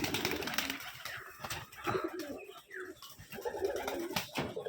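Several gerebaz pigeons coo in soft, overlapping bursts throughout, close by in a loft, with rustling and a brief flutter in the background.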